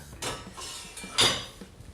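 Lid or cover placed over a cup of steeping black tea, a couple of light ceramic clinks close by, with soft handling noise between them and no talking.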